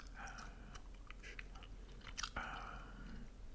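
Gum being chewed right at the microphone in a whispered ASMR setting, with steady moist smacking and small clicks repeating throughout and a sharper snap near the end.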